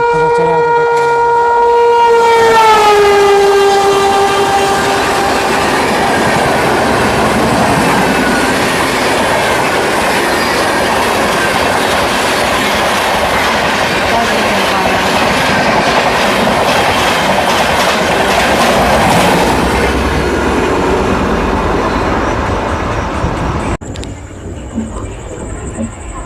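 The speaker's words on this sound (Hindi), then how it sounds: "सामने से फिर से कोई ट्रेन के साथ हमारी क्रॉसिंग हो रही है" Indian Railways passenger train rumbling loudly as another train crosses alongside, a steady dense roar with a fading horn at the start and rhythmic wheel clatter, easing off near the end.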